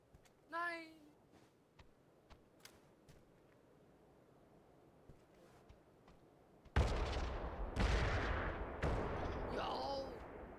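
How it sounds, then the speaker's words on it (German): Distant booms and crackling blasts from fire grenades in the video game PUBG erupt in a heavy burst after a quiet stretch, with scattered sharp pops and a whistling tone earlier. "Was sind das immer für Explosionen"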